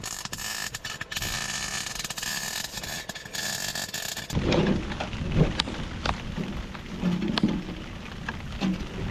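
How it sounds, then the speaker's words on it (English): Hail coming down on a small tent during a storm with strong wind, heard from inside; a dense pattering roar breaks in abruptly midway and carries on with scattered louder impacts, no talk. "now there's fucking hail coming down"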